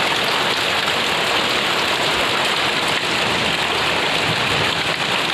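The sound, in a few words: heavy rain falling in front of a house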